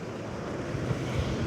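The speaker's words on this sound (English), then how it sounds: "big gust of wind." Wind roars and buffets the microphone in a dense, continuous rush that stays loud throughout, a strong gust on a bridge.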